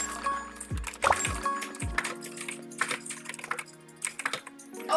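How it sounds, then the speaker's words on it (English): A computer keyboard is mashed rapidly during a Roblox Bedwars match: fast, irregular bursts of clacking keys, close and fairly loud, with a few low thuds and game sounds mixed in. "I can hear you spamming your keyboard"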